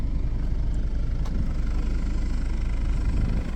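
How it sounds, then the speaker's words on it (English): A 2018 Jeep Cherokee engine idles steadily and close by with a slight driver's side exhaust leak, a low continuous rumble with no talking. "Sounds like there might be a tiny bit of an exhaust leak coming out of that driver's side one"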